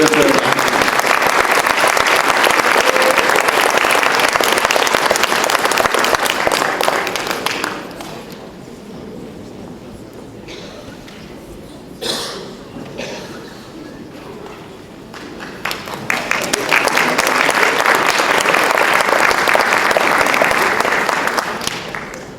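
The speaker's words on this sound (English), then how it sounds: "give me a round of applause for these fine young men" Audience applause at a school board meeting, loud sustained clapping for about seven seconds, fading to a quiet murmuring room, then a second burst of full applause returning near the end.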